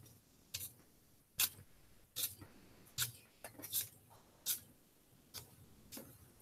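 Tape being pulled and wrapped tightly around bundled wooden tongue depressors on a mini scorpion catapult model, heard as a series of short, sharp ripping crackles at irregular intervals, close and fairly quiet, with no talking.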